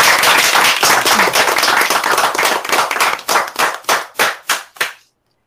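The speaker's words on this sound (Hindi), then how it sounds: "तो इस बात पे एक बार जोरदार तालियां तो बनती है।" An indoor audience claps loudly and steadily at an accessibility talk, a dense wash of many hands that thins into scattered, separate claps before stopping.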